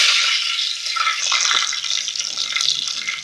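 Curry leaves dropped into hot oil left over from frying dried fish give a loud, steady, close sizzle and crackle throughout.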